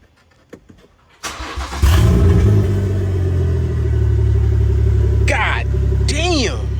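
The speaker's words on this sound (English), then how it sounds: "we gonna start this car" A BMW 340i with its B58 engine and no exhaust fitted cranks and fires up, then settles into a loud, raw, droning idle with a couple of revs, heard close with a voice speaking over it.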